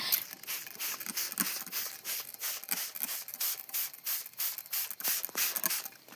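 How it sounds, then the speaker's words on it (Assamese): A handheld spray bottle squirts in a quick, steady rhythm, about a dozen close, hissing pumps one after another with no talking. "এখন হাতৰ স্প্ৰে মাৰি আছোঁ"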